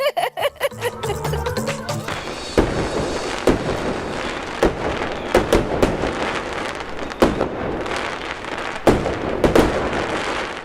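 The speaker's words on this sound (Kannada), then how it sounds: "ಇವತ್ತು ಯಾಕೆ ಪಟಾಕಿ ಹೊಡ್ತಿದ್ದಾರೆ?" Firecrackers burst in sharp irregular cracks, some close and loud, others farther off, over a steady crackling background.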